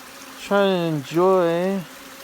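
Insects swarm a sweaty hiker resting on a canyon trail near Joe Elliot Campground. Two loud, close buzzing passes sweep by the microphone in quick succession, with a brief gap between them over a quiet background.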